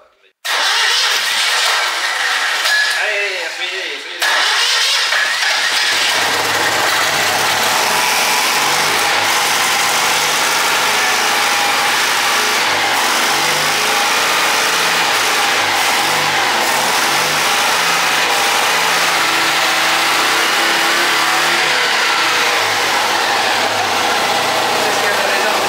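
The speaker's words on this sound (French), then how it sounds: "on s'apprête à refaire un nouveau test de démarrage" A Citroën Méhari pulled out of long barn storage cranks over and catches, its mid-pitched engine revving loudly and unevenly for over twenty seconds after a brief quieter opening.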